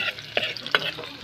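An egg fries in a hot pan with oily sizzling and a few sharp splattering pops, close and brief, with stirring scrapes.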